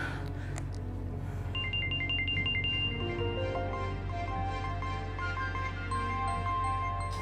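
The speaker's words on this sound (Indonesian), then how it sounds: "angkat telepon mama sayang" A mobile phone ringtone plays a bright, repeating electronic melody for several seconds over a steady low background hum, with no talking.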